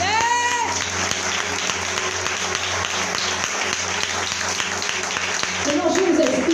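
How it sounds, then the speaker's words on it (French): An audience at a church conference applauds and cheers in a large hall, dense sustained clapping throughout, with a voice speaking over the crowd. "Si vous aimez Dieu, acclamez"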